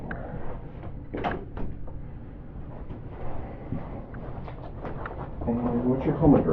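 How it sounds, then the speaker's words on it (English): An interrogation-room door being shut, a short knock and thud of it closing amid nearby talk and rustling. "Let me shut this door."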